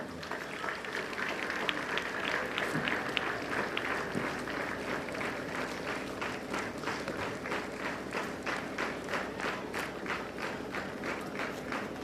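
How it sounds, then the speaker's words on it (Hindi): Applause from an audience at a passing-out parade ceremony, welcoming the chief guest: a steady, moderate wash of clapping that runs evenly through the whole stretch, with a faint rhythmic patter riding over it. "कृपया मुख्य अतिथि महोदय के सम्मान में जोरदार ताली बजाकर स्वागत किया जाए"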